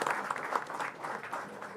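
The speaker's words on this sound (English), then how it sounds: "I think we should have a huge round of applause for Rishi here." An audience at a chess world championship event gives a warm round of applause, dense steady clapping from a crowd that holds at an even level throughout.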